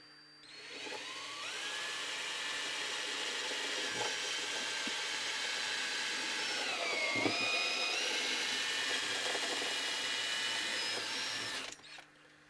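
A 2.5 mm drill bores through a fret into the neck dovetail of an old Gibson archtop guitar, a steady, close whine held for about ten seconds that dips briefly in pitch midway before spinning down.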